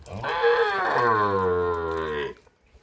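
A Sahiwal cow or calf lows once in a long, drawn-out moo lasting about two seconds, close and loud, then fades into quiet.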